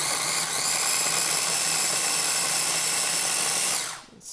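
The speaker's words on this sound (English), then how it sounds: "I'm going to grind that up and then add it in." A food processor grinding half an onion, a loud continuous high whirring buzz running for nearly four seconds before cutting off.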